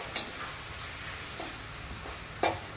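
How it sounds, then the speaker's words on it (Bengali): Tomatoes are sautéed in a pan for a Bengali-style prawn curry. A low, steady sizzle runs throughout, with two sharp clicks of a utensil striking the pan. "ভালো করে একটু কষিয়ে নেবো টমেটোগুলো, যাতে টমেটো দিয়ে জলটা ছেড়ে দেয়।"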